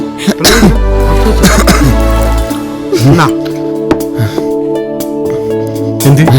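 A man coughs and clears his throat in several sharp, close bursts, with people talking around him.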